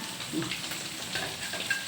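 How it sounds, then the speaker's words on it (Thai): Mackerel fry in hot oil in a pot, giving a soft, continuous sizzle and crackle that carries on throughout without any talking. "เราก็จะเอาปลาทูใส่นี่นะคะ"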